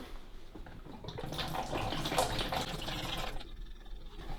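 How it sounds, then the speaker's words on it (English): Leftover water pours out of a Breville SuperSteam 2400W ceramic steam iron after a self-clean descale, a soft continuous splashing trickle heard close up that fades near the end. "So now we're going to empty out the remaining water."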